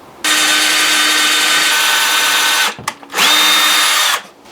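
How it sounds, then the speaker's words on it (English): A power drill drives screws through the bottom of a drawer into wooden blocks, sounding as two loud, sustained whirring bursts of about two and a half seconds and one second, separated by a short pause, with no talking. "screw the drawer directly through the bottom into those blocks"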